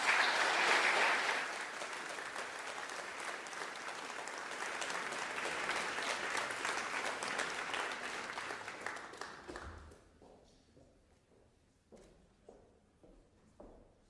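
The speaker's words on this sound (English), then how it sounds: "please give a big hand and warm applause to the musicians as they enter the aula" A large audience in a university hall applauds as musicians walk in, dense sustained clapping that fades out after about ten seconds, leaving a few sparse knocks and shuffling footsteps.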